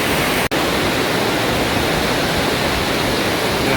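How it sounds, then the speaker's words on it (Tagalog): Heavy rain pours down steadily in a mountain area, a dense, loud, unbroken hiss with no letup apart from one momentary dropout near the start. "Grabe na ang ulan."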